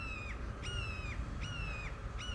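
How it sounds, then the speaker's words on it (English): Crow cawing outdoors in the background, about four drawn-out, slightly descending caws in a steady rhythm over a constant low rumble of wind or traffic. "I don't know if you guys can hear that bird in the background."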